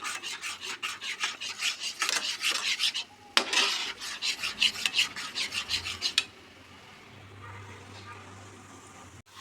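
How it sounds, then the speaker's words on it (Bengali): Chhana (cottage cheese) stirred continuously in a pan while making nolen gur sandesh, giving a steady run of rhythmic scraping and rubbing strokes that stop partway, leaving a faint low hum. "এবার এইভাবে অনবরত নাড়তে থাকবো"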